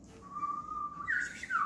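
Human whistling imitating the song of a bush warbler: a long, steady sustained note that rises into a brighter, sliding final phrase, heard clearly and alone over quiet room tone.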